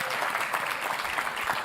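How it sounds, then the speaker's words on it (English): A room full of people applauds a woman after her performance at a professional women's hockey league expansion announcement, with steady, dense clapping that holds throughout and no one talking over it. "So can we just give her another round of applause?"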